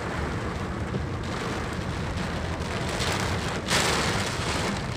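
Heavy unseasonal rain with strong wind in Beed district pours down as a dense, continuous roar, steady and loud throughout with a brief surge near the end.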